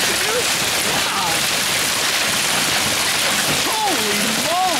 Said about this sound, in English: I have not seen hail like this in a long, long time.